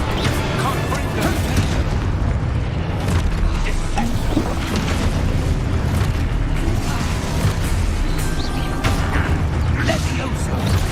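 The Confringo explosion spell goes off in the video game Hogwarts Legacy amid a dense, busy mix of game effects, with booming impacts, creaks and mechanical rattles running continuously for several seconds.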